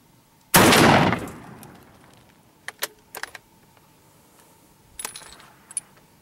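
A single rifle shot strikes a water-filled tin can downrange, a loud sharp blast with a decaying splash-like tail, followed by a few faint scattered clinks and small impacts.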